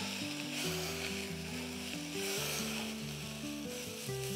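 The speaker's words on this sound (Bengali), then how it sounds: "এবার ভালো করে মশলাটাকে আমাকে নেড়ে নিতে হবে।" Masala frying and being stirred in a pan for Bengali mutton kosha, with a soft steady sizzle under a loud tonal background of shifting pitches that dominates, and no talk.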